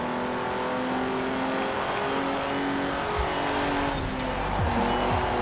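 An Alfa Romeo 155 Q4, stock and all-wheel drive, revs steadily in Forza Horizon 4 with a constant engine drone and some tire noise.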